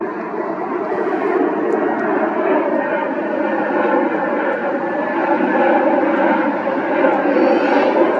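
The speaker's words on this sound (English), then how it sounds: "It's a A350 inbound from Paris." An Air France Airbus A350 airliner inbound to Washington Dulles, a steady, loud, broadband engine roar sustained evenly throughout with no break.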